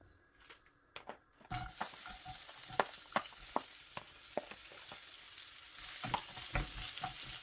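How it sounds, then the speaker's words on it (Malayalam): Sliced onions drop into hot oil in a frying pan and burst into a loud, close sizzle, with sharp spatula taps and scrapes punctuating the steady frying. "എണ്ണ നന്നായിട്ട് ചൂടായി വരുന്ന സമയത്ത് ആദ്യം നമ്മൾ അരിഞ്ഞു വെച്ചിരിക്കുന്ന സവാള ഇട്ട് കൊടുക്കുക."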